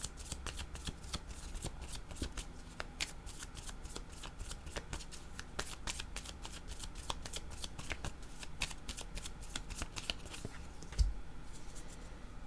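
Tarot cards being shuffled by hand, a steady run of crisp riffling flicks and slides close up, with a soft low hum underneath and no talking.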